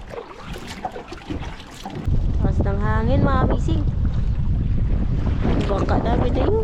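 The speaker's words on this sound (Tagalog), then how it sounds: "Lakas ng hangin mga bising." Strong wind buffets the microphone out on the water near a boat while fishing traps are set, a loud constant rumbling roar that swells after a quieter start, with a voice talking over it.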